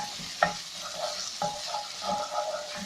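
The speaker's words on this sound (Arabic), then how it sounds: "اذا نقلي مليح هذيك الطماطيش مكبره" Grated tomatoes fry in a pan with garlic for a chicken and potato gratin in red sauce. A soft continuous sizzle sits under repeated spoon scrapes and stirs, close by.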